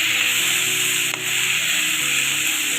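Bathua greens frying in a pan give a loud, steady, close sizzle with a faint stir partway through, and no voices over it.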